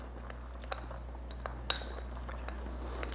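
Faint, sparse clinks of a spoon against a small glass dish while a cinnamon-heavy holiday spice blend is stirred, with a few brief taps over quiet room hum.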